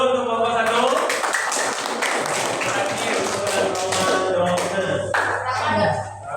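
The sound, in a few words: applause for group 1 in a classroom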